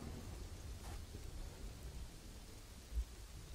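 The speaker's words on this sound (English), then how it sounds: "Flooded due to heavy rain." Heavy rain falls in the city-building game Kingdoms and Castles, a soft even hiss with a low rumble beneath and one short muffled thud near the end.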